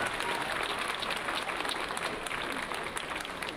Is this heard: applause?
yes